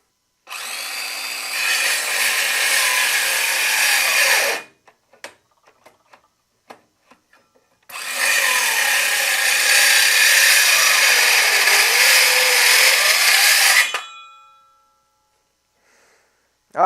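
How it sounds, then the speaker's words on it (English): A Drill Master cordless circular saw whines loudly through two long cuts in wood, separated by a few seconds of scattered clicks and knocks. "Now, let's try the Drill Master."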